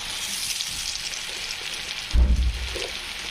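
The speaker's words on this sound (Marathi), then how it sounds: "तेलात कांदा लवकर फ्राय होण्यासाठी अगोदर मीठ टाकून घेऊ" Chopped onion frying in hot oil with salt, giving a steady soft sizzle with a brief louder crackle near the end, with no talking.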